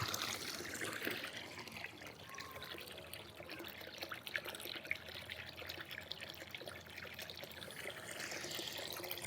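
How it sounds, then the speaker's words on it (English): Water from a small solar-powered pond pump pours and trickles steadily, a continuous splashing dribble that stays fairly even throughout with no talk. "I will now stand in front of the solar panel and you can observe the flow of the pump."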